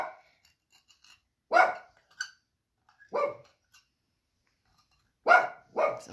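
A dog named Mr. Belvedere barks at the mailman, several sharp, loud barks in irregular bursts with pauses between, fairly close and alone.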